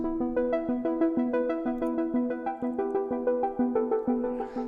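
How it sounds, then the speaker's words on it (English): A synth arpeggio plays a steady, repeating run of plucked notes, with a filter cutting away the high end, for ambient downtempo music in the Anjunadeep style. It is clean and even, with no voices. "So I've taken this ARP and I've got a little bit of a filter on it just to take out some of the high end."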